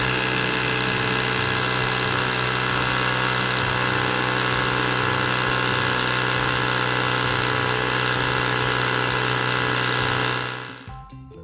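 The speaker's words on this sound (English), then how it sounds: "Attach your tire pump. And inflate to 30 psi." A tire pump runs continuously and loudly while inflating a bicycle tire with a new inner tube to 30 psi, a steady mechanical drone that cuts off abruptly at the end.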